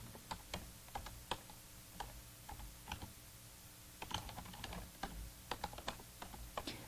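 Typing code on a computer keyboard: irregular bursts of crisp key clicks in a quiet room, some quick runs and short pauses, faint and close with no voices.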